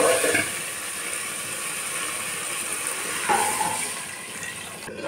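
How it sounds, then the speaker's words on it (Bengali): Water is poured into a cooking pan onto fried mustard paste for a thin katla fish curry, making a continuous gushing, splashing pour with a faint hiss. "সরষে বাটাটাকে একটু নেড়ে চেড়ে জল দিয়ে দেবো।"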